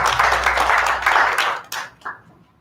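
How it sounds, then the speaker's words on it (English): A conference audience claps together in a dense burst of applause that thins out into a few scattered claps and then stops, in a large room. "Can we all clap for ourselves as we go to the next session?"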